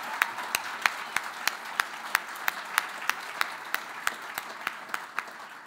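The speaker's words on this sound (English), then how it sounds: "Please join me once again in giving them all a great round of applause." An audience at an industry awards gala applauds a graduating class of rising stars with thin, evenly spaced claps at a steady rhythm, moderately close and with no talk over them.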